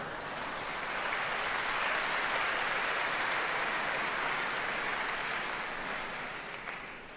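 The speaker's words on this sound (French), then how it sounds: "Je ne sais pas ce que vous applaudissez" Audience applause at a Carmen concert, a dense steady wash of clapping that swells in and holds for several seconds before starting to fade.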